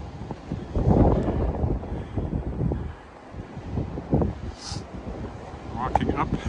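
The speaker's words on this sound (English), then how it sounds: "The wind will be behind me when I turn the corner, so I'm good from here." Strong blizzard wind buffets the microphone while walking outdoors through snow in Regina, a steady loud rush with gusts rising and falling throughout, and a voice talks over it.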